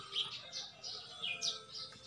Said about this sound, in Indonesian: Terima kasih burung-burung cantik.